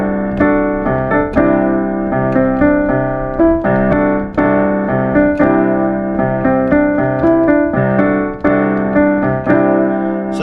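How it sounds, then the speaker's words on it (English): A loud, dense rock passage played in the Lydian mode, with sustained distorted chords and rhythmic accents throughout, continuous and full with no talking. "that is the sound of the Lydian mode in a rock song"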